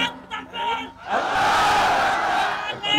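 A large crowd at an Islamic religious gathering shouts a takbir together in one sustained, loud roar lasting over a second, after a single voice calls out.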